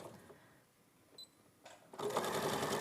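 A smooth-running sewing machine stitches fabric, first faint handling noises and a brief tick, then the motor and needle start up loud and close in a steady whir.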